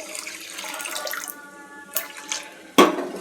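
Water poured into a pan of sugar to make syrup: a short splashing trickle that builds briefly and ends with a sharp splash near the finish, heard close up without talk.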